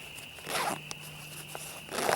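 The aluminum zipper pull on a Kelty Trekker 65 external-frame backpack is drawn in short scratchy runs, with a few quick clicks between them, quiet and close over a faint steady background tone.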